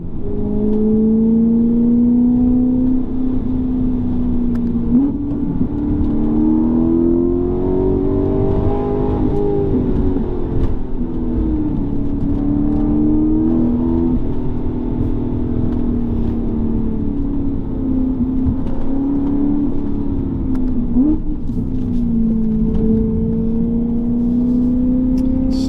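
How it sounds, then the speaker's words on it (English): A 2013 BMW M3 E92 Lime Rock Park Edition drives at speed around a track, its engine loud and close as it rises and falls through gear changes without pause, with no talking over it. "This car sounds just amazing."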